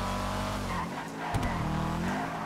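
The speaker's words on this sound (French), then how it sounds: "On dirait un moteur de Jaguar fusionné avec un moteur de." The Karin Calico GTF sports car in GTA 5 Online revs its engine loudly and steadily, a dense droning roar with a brief squeal of tires midway, heard close and without talk.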